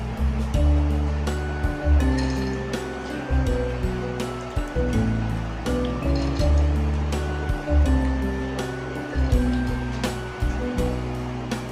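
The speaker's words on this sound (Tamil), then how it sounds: "நான் கொஞ்சம் அதிகமாக உளுந்த பருப்பு ஊற வச்சதுனால 2 திருவையாக போட்டு நான் அரைச்சிக்க போகிறேன்" A wet grinder churns soaked urad dal and rice into batter for vada, a loud, steady motor drone with a rhythmic swishing surge about every second.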